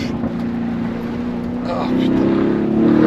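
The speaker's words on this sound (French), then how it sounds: "Oh, ce V8, il a le démon." A Lamborghini Urus V8 engine revs and climbs steadily in pitch from inside the cabin, its growl building under a man's brief spoken exclamation.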